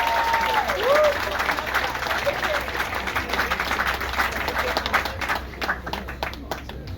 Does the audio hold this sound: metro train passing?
no